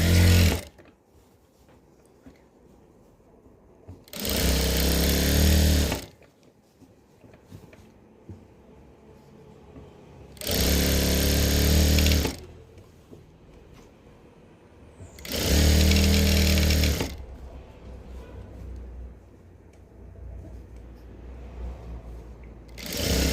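A sewing machine runs in four separate bursts of about two seconds each, stitching the side seams of cigarette pants, loud and close with quiet pauses between runs.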